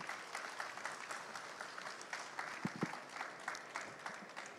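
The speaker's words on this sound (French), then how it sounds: "vous pouvez applaudir" Audience applause in a French conference hall on the metaverse, welcoming speaker Samuel Caux of XP France; steady, fairly faint clapping from a seated crowd throughout, with a few sharper individual claps standing out.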